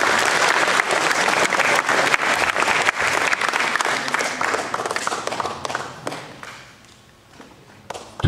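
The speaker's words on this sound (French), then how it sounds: "Applaudissons à ses partenaires." An audience in a community-centre hall gives sustained applause that holds strong for several seconds, then thins to a few scattered claps and thumps before fading.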